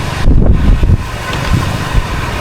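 Strong wind buffets the microphone outdoors while crab is being cooked with ginger, a loud gusty roar strongest in the first second, then a steadier rumbling rush continuing throughout.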